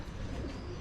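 Pigeons coo softly and steadily through a short stretch at a street spot in Estepona, Spain, with low birdsong blending into a busy outdoor background and no talk.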